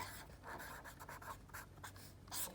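Pen or pencil writing math notes on paper, steady scratchy strokes in quick bursts close to the mic, with a low background hum.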